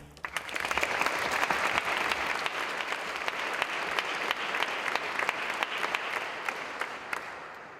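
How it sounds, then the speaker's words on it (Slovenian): Loud, sustained applause from a concert audience at a student choir's anniversary performance, many hands clapping steadily with sharp individual claps standing out, tapering slightly at the end. "En aplavz."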